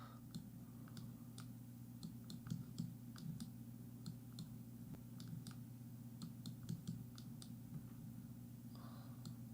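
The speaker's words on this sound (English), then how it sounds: "I love that like half my streams are just like clicking ASMR." Sharp, irregular clicks of a computer keyboard and mouse in quick bursts over a steady low hum, fairly close and moderately loud throughout.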